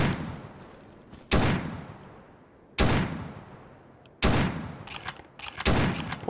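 Gunfire in the game Escape From Pripyat: heavy, reverberant shots boom loudly one at a time at irregular intervals, with a quicker cluster of bursts near the end and no voices.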